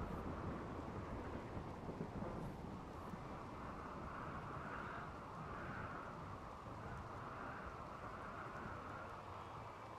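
Rain pours in the Rimworld video game, a dense, continuous hiss with a low rumbling undertone that stays steady and fairly loud throughout.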